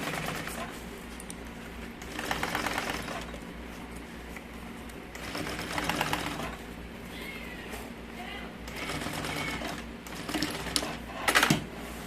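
Sewing machine stitching the front of a large fabric changing bag, its motor running in a steady buzzing stretch with louder bursts of stitching at intervals and brief clicks near the end.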